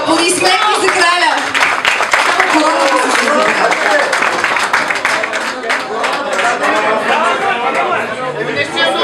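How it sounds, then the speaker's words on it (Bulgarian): Loud audience applause at a Bulgarian car meet award ceremony for a car builder and his Lada, with clapping mixed into lively crowd chatter and shouts that keep going throughout. "Аплодисменти за краля."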